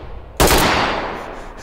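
A single sharp, loud gunshot from the tactical shooter game Ready or Not bursts out suddenly and rings into a decaying tail, close and alone after a quiet lead-in.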